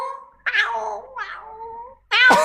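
A person imitates a cat with three loud, close meows: a drawn-out wavering call, a shorter one, then an abrupt final yowl after a brief silence.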